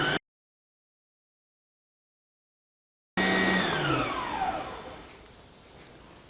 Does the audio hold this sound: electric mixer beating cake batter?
yes